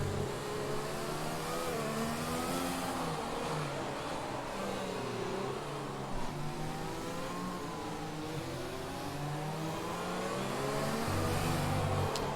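Race car engines in a racing game on a lap at Autódromo Hermanos Rodríguez in Mexico roar continuously, with rising and falling revs as cars run close together and power surges near the end.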